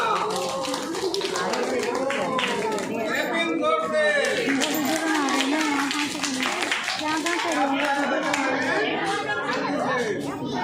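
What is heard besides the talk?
clapping at a birthday party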